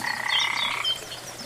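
Frogs croak in a short, rapid, pulsing burst that fades quickly, fairly close and clear against quiet background noise.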